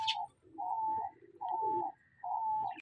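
Doves descending from a perch to eat breakfast in a backyard aviary, giving three long, steady cooing calls, each close, clear and separated by short pauses.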